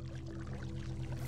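Water poured from a bucket in Minecraft gives a steady, close rushing pour that fills the whole short moment at a moderate level, with no speech.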